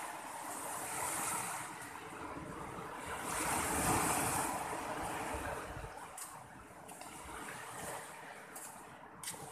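Ocean waves wash onto a beach beside a coconut farm in Surigao del Sur, giving a steady broadband roar that swells and recedes, with wind buffeting the microphone and no voices.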